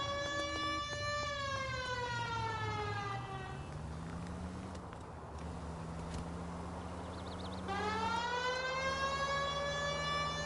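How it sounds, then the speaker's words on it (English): Police car siren in the video game L.A. Noire, a loud rising-and-falling wail that drops out briefly midway, leaving a low engine drone, before sweeping back up strongly. "They don't know to move if the siren's not on."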